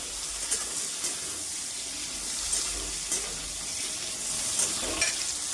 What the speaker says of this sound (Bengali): দিয়ে শুধু নাড়তে থাকবো এই রান্নাটা শুধু নাড়তে নাড়তে রান্না হয়ে যাবে